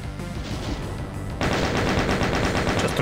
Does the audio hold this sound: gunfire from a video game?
yes